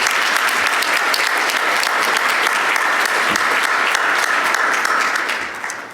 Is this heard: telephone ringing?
no